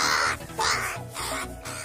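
Crows caw loudly in a few harsh bursts, repeated calls close by with brief gaps between them, alone with no talk.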